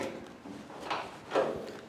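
Key turning in the lock of a 1954 Ford F600 truck door fitted with a Toyota lock, giving a few short metallic clicks and clunks, fairly close and quiet.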